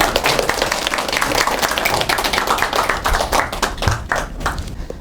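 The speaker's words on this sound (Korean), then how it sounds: "이시 대표님을 큰 박수로 환영해 주시기 바랍니다" A lecture audience claps loudly in welcome for a speaker, many hands producing a dense, continuous applause that thins toward the end, leaving a few separate claps, close and alone with no talk.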